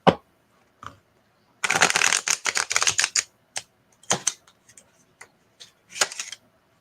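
Tarot cards being shuffled by hand, several loud riffling bursts and sharp flicks separated by brief silences, with one longer rapid riffle near the start.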